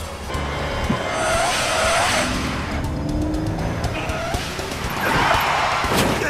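Engine roar and screeching tire skids from a car being driven fast in the video game Lost Horizon, loud and continuous with swelling squeals, and a brief voice in the background.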